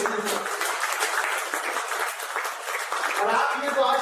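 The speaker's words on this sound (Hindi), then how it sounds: "एक बार तालियां सेवा भारती के लिए" Audience applause at a Hindi poetry gathering, a dense patter of clapping under a voice that keeps talking over it, moderately loud and steady.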